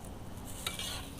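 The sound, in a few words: spam sizzling in thin stainless steel pan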